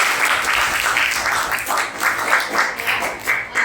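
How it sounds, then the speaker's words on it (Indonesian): A classroom of students claps for a classmate named Febri during an economics lesson, a loud, brisk burst of hand claps with uneven pulses and no talking over it. "Tepuk tangan untuk Febri"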